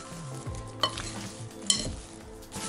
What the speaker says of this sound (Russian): Остается только все перемешать.